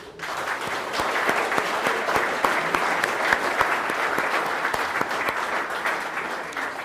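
Audience applause at the WESSA National Blue Flag and Green Coast Awards 2025 ceremony, a steady, dense round of clapping from a large crowd that sustains evenly throughout without fading.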